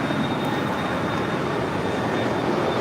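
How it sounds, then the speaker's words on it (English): A Delta Airlines A320, an older ex-Northwest airframe, arrives at LAX with a steady, fairly distant jet engine rumble and a faint high whine, no talk over it. "Delta Airlines Flight 306 coming in from Austin, Texas on this older Northwest Airlines A320."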